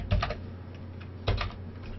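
A short typed entry goes into an Excel input box on a computer keyboard. Two quick bursts of close keystrokes are separated by about a second of quiet room hum, with no voices.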